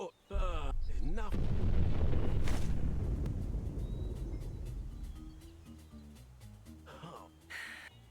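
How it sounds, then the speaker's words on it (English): A loud, sustained explosion in a video game bursts in after a brief gap, a broad rumbling roar that slowly decays over several seconds, with a few faint clicks and a short sound near the end. "That was quite the explosion."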